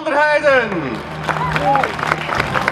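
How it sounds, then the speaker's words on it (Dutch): Crowd applause and cheering for rider Inge van der Heijden at an elite women's cyclocross podium ceremony in Maldegem, loud and close, mixed with announcer talk and crowd babble. "Dames en heren, applaus voor Inge van der Heijden."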